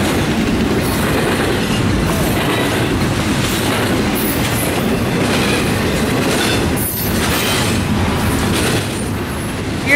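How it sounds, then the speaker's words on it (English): A southbound Norfolk Southern freight train rolls past up close at a winter crossing in Columbus, Ohio, a loud continuous rumble with clickety-clack of wheels and brief squeals, no talking. "This train was southbound for Genova, West Virginia."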